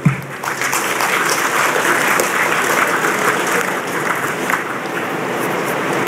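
A crowd at a formal speech by a Malaysian minister bursts into steady, sustained applause, a dense even wash of clapping lasting several seconds, with sharper claps at the start and end.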